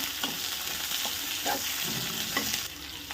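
Green chillies and garlic sizzle and fry in a pan for onion chutney, a steady close hiss with a few soft stirring scrapes and no talking.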